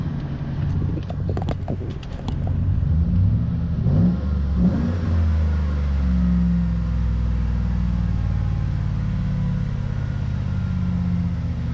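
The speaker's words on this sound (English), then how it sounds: "The truck's got a good breath of fresh air. Let me give it some gas." A Chevy Silverado pickup truck engine with a modular intake tube revs up a few times with a throaty roar, then settles into a loud, steady rumble close by.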